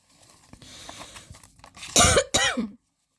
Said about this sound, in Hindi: मेरी खांसी का क्या करूँ यार